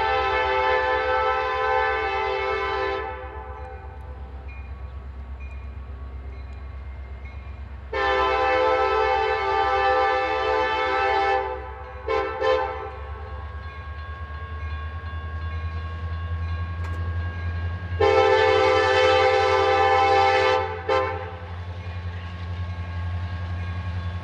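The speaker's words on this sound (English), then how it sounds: "CSX numbers 4721 and 74 restart this westbound manifest" CSX freight locomotives 4721 and 74 restarting a westbound manifest train at a crossing, with long loud horn blasts in a repeating pattern over a deep idling and rumbling diesel engine drone.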